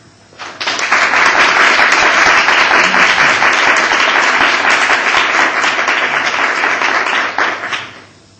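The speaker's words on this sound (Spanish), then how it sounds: "quisiera que todos nosotros le diésemos una calurosa bienvenida con aplausos" An audience at a lecture on the neurobiology of meditation breaks into a loud, warm round of applause to welcome a guest. It swells quickly, stays full and sustained for several seconds, then tapers off near the end.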